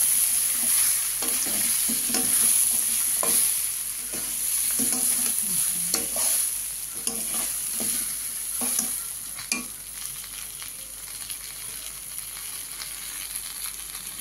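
Moong dal, washed and pre-fried, stir-fried in a pan for a fish-head dal, steady sizzling with scraping stirs and clinks throughout, close and moderately loud, no talking.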